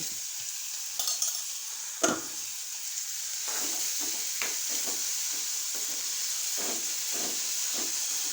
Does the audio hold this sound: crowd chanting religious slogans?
no